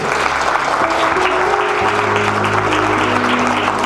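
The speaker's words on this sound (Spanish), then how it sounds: "Démosle un aplauso al Señor, mis hermanos." Loud, sustained applause from a church congregation filling the room, dense and continuous, with a low hum underneath.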